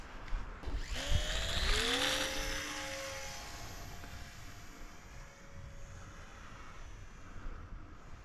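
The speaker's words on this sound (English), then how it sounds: "we finally got out to test the P51 Mustang from the Mini Warbird series from TopRcHobby.com." A TopRcHobby Mini Warbird RC P-51 Mustang model plane buzzes past outdoors, its small electric motor whining loudly and rising in pitch, then fading into a faint distant hum over the remaining seconds.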